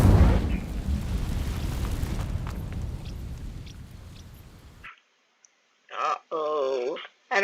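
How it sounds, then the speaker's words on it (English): An Incendio fire spell ignites dry vines in Hogwarts Legacy, a loud whooshing, crackling burst that fades over about five seconds, followed by silence and then a voice speaking. "These dry vines are one spark away from becoming kindling. Incendio!"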